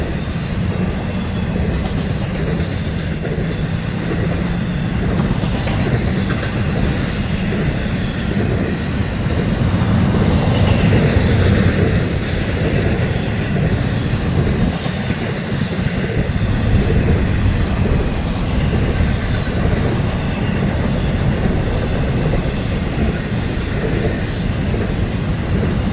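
A freight train, including trailers and a block of empty cars, rolls steadily past close by, heading north in Saint Augustine, with continuous rumbling and rhythmic clickety-clack of wheels over rail joints, lasting throughout without voices.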